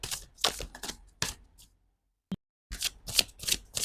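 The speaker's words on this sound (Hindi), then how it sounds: "जब तक मैं कार्ड शफल करूं" Tarot cards being shuffled by hand: several quick papery rustling bursts, a pause with a single sharp tap, then another run of close riffling.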